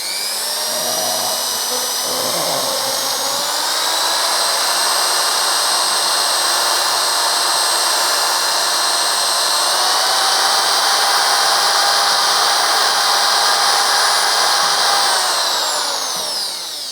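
A power mixer churns thickened epoxy resin for a glass-laminate face coat, giving a loud, steady high-pitched whine that holds its speed throughout, with a brief lower rumble near the start and no talking.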